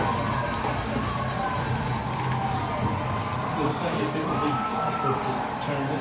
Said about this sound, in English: More crowd noise when we come back.